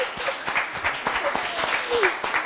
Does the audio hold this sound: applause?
yes